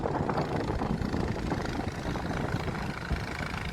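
A motorboat engine on the fast-flowing Sangu River in Bandarban drones steadily and continuously at close range, a low rumbling hum with no voices.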